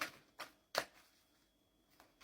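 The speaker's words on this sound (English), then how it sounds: "I like to shuffle a bit first before it comes flying out" Tarot cards shuffled by hand, a few quick, soft riffling bursts separated by short pauses, close and quiet in a still room.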